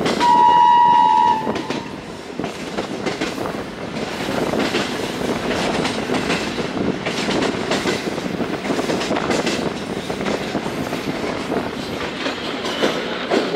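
Karachi Express train running past Malir toward Drig Road, with a horn blast at the start followed by steady, loud rumbling and rattling of the moving cars throughout.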